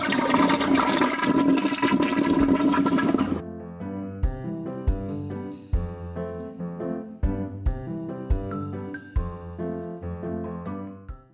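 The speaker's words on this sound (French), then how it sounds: "L'intérêt est accru lorsqu'on actionne la chasse d'eau." A toilet flush opens with a loud, close rush of water lasting a few seconds, then gives way to a separate run of distinct tonal notes that continues to the end.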